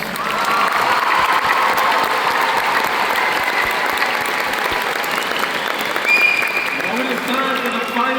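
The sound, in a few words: graduation audience applause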